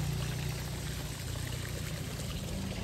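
Water pours down from above along a roadside on a cycling pilgrimage route to Kedarnath in Uttarakhand, a steady, close, continuous gushing without pause and with no voices over it.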